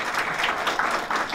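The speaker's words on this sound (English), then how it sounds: "Let's give her a round of applause" Audience applause for a former mayor at a women's suffrage centennial kickoff celebration, a steady wash of many hands clapping that stays fairly constant through the short stretch.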